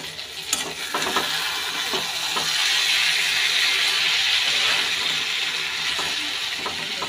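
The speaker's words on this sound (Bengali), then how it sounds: "মাছটা দিয়ে হালকা হালকা নাড়া দেবো, বেশি নাড়বো না, বেগুন তো গলে যাবে" Fish and eggplant fry in a pan and are gently stirred, a loud continuous sizzle that swells in the middle, with soft scraping strokes near the start and end.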